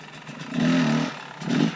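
A motorcycle engine swells twice as the throttle is opened a little during a wheelie, a short rising drone followed by a second briefer burst, heard at moderate distance without talk.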